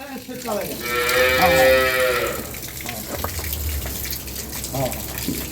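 A cow moos loudly at a dairy farm where high-quality milk cows and calves are kept, a long harmonic call in the first seconds, followed by quieter farm background noise and some nearby talk.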